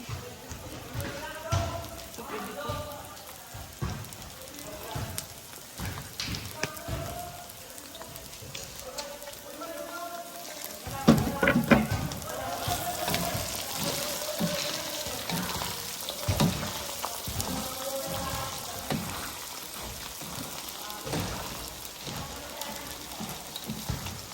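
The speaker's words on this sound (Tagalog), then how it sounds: "Lagay natin ang ating bawang." Garlic sizzling and frying in a pan in a home kitchen, a steady crackling hiss with occasional louder spatters and stirring, while people talk over it.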